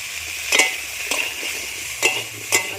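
Potatoes and cauliflower with turmeric fry in a pan, a steady close sizzle broken by four or five light scraping stirs at roughly half-second intervals.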